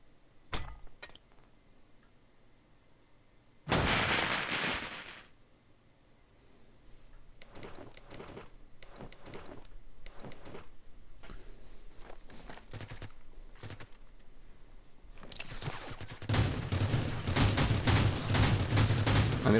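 Gunfire from the mobile battle royale game Rules of Survival comes in bursts: a loud blast early on, then clusters of rapid shots, ending in sustained heavy firing, all without speech.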